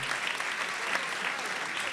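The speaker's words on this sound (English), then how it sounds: "please give a big round of applause for our panel" A large audience claps steadily for a panel at a roundtable forum, a dense, even wash of applause filling the whole moment without a break.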